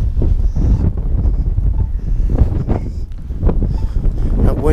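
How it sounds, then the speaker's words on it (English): Strong gusting wind on a snowy street at night during a snow storm, roaring and buffeting loudly against the microphone. "Wind's still pretty nasty."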